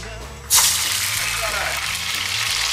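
A sudden loud hiss and crackle as potatoes drop into hot oil for frying, settling into a steady bubbling sizzle beneath a speaking voice.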